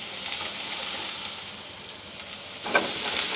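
Morels sizzle hard in hot oil in a pan, a steady broadband frying hiss throughout, with a sharper, louder burst of spitting near the end as water meets the oil.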